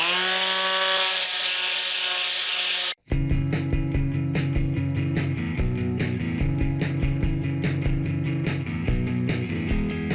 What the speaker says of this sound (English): I'm going to go around and sand the edges a bit smoother